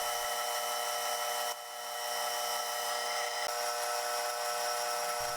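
A metal lathe cuts an inside chamfer on a John Deere 110 tie rod, giving a steady, loud, continuous whine and hiss with a brief dip partway through.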